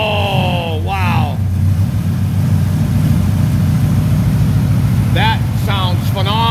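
A 1946 Ford pickup V8 with aluminum heads and three two-barrel carburetors idles nearby, giving a steady, even low rumble throughout. A voice exclaims briefly near the start and again toward the end.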